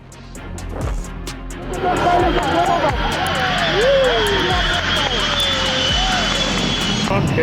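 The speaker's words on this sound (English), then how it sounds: "The legendary Boeing 707 of Air Zimbabwe passed only about 6 feet above the ground" An Air Zimbabwe Boeing 707 jet flying very low overhead, its loud engine roar building and then holding with a sweeping pitch shift as it passes, under someone narrating.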